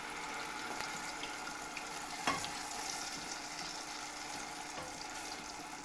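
A spring roll fries in hot oil, giving a steady, close sizzle and crackle throughout, with one brief clatter partway through.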